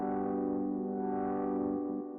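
A lo-fi house synth chord drenched in tape-style compression and distortion holds steady and dense, with a thick harmonic buzz that drops slightly near the end.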